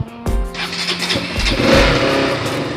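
A KTM 200cc motorcycle engine cranks and fires up, then settles into a steady, rumbling idle close by, with a slight rise in revs.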